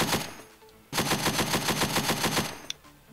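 A vehicle-mounted gun on a modded military vehicle fires in the game Unturned, loosing a fast, even burst of about fifteen rounds over roughly one and a half seconds. It is loud and close, and a low engine rumble runs underneath.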